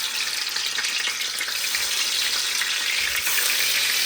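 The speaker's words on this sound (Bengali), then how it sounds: "তো আমি বাঁধাকপি তরকারি রান্না করব রুই মাছ দিয়ে।" Cabbage curry with rohu fish cooking in a pan sizzles loudly and steadily up close, with crackling and faint stirring throughout and no voices.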